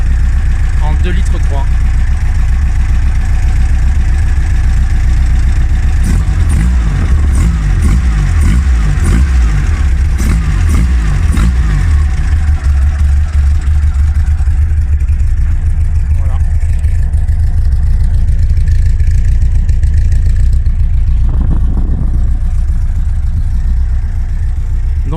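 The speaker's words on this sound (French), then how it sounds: "le moteur, ça reste un 4 cylindres à plat refroidi par air" An air-cooled flat-four engine, enlarged from 1.2 to 2.3 litres, idles loudly and steadily throughout with a low, throbbing rumble, while someone talks over it.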